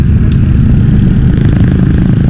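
A 2024 QJ Motor SRT 600 motorcycle engine runs loud and close, a steady deep rumble with no break and no voices.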